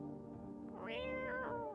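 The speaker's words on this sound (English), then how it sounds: "Pet the cat. You reach out and pet the cat." A cat meows in a video game, a single drawn-out meow rising and falling, clear and fairly close over a quiet background.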